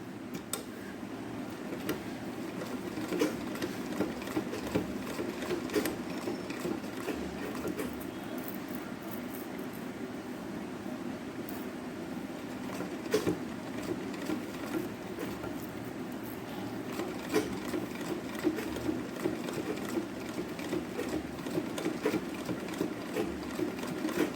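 A sewing machine stitches a tulip sleeve at a slow pace, its soft mechanical whir and light ticking running steadily at close range for the whole stretch with no talk.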